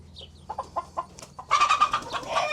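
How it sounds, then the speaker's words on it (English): Chickens around a feeder cluck softly in short separate calls, then a busier burst of clucking and chatter from several birds close by. "There's a lot of the new chickens around the feeder."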